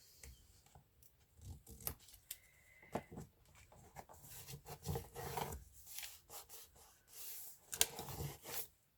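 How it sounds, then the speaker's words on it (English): Paper being trimmed and rasped for a collage page, heard as close, soft scraping and cutting strokes in uneven bursts that grow busier toward the end, with no voices. "And then we're going to trim that off here."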